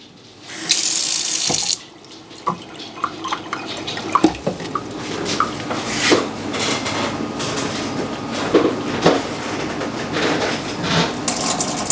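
Tap water runs into a measuring cup for gluten-free chocolate chip muffin batter, opening with a loud gush and then settling into a lighter trickle broken by drips and small clinks of the cup.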